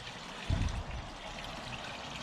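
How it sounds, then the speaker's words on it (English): Water falls from a koi pond's gravity water blade, dropping through a slot cut in a winter polycarbonate pond cover: a steady soft trickle with one brief louder splash near the start. "I've had to cut slots in for the gravity water blade"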